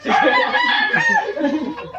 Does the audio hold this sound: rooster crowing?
yes